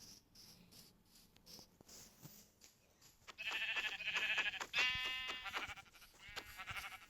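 Sheep bleats in the Minecraft video game, a few clear wavering calls rising out of a quieter start with soft game ambience, several bleats in quick succession near the end.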